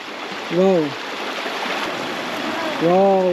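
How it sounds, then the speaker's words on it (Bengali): A crystal-clear stream flows under a small footbridge on a forest trek at Jayanti, making a constant rushing gurgle while a voice speaks briefly twice over it. "আশা করি শুনতে পাচ্ছ জলের আওয়াজটা কতটা মিষ্টি লাগছে"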